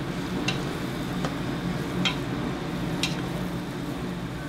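Chopped ghost, scorpion and Carolina Reaper peppers are stirred around a bowl for hot sauce, giving a steady soft rustle with a few brief clicks and scrapes.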